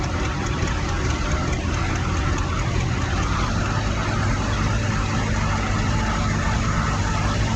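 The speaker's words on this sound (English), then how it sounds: "This is a big tractor in the D series of Alice Chalmers." Turbocharged Allis-Chalmers D series tractor in a threshing show parade, a steady, loud engine drone rolling past outdoors with no clear change in pace.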